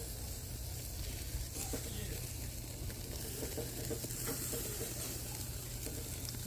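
Bacon-wrapped jalapeño poppers frying as the bacon cooks, giving off a continuous soft sizzle and crackle with a low background hum throughout.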